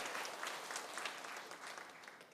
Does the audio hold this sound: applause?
yes